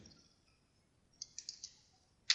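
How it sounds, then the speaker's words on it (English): Keys tapped on a computer keyboard while entering an Excel formula, a handful of quiet, crisp clicks spaced irregularly in the second half and one sharper click at the end, close and faint. "So I'm typing equals."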